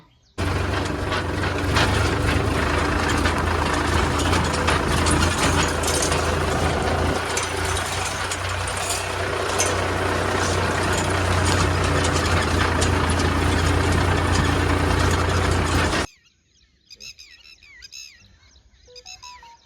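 A tractor that has slid down into a farm field, its engine running steadily and loudly up close with a rough, knocking drone for about sixteen seconds before cutting off abruptly, leaving faint background sounds.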